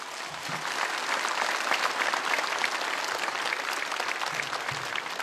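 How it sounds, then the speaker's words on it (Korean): A church congregation gives a warm round of applause welcoming a pastor to the pulpit before an evening sermon, with steady, moderately distant clapping sustained throughout. "여러분 뜨거운 박수로 환영해 주시기 바랍니다"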